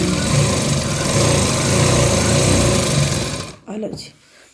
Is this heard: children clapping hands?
no